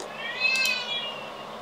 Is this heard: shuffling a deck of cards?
no